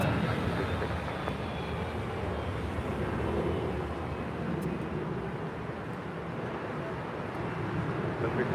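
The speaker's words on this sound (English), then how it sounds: "This departure is Delta Airlines Flight 2647 departing to Detroit on an A321." A Delta Airlines A321 jet departs LAX with a steady, broad engine roar that fills the whole stretch at moderate distance, with a faint voice now and then underneath.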